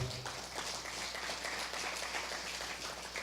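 Congregation applause in church during a Christmas sermon: a steady, dense wash of many hands clapping at once, moderately faint and even throughout without pause.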